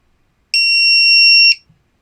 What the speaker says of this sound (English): my LiPo alarm says that's pretty much fully charged